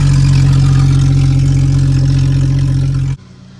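A straight-piped Jeep engine idles loud and close with a deep, steady rumble that cuts off abruptly near the end, leaving quiet.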